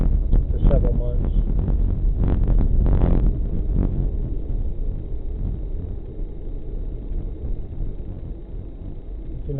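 A 2006 Lincoln Town Car, dirty after months of sitting, rumbles steadily from inside the cabin, with low road and wind noise filling the ride and no other sounds standing out.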